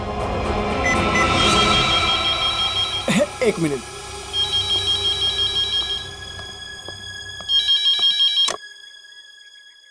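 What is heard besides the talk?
telephone ringing during outgoing call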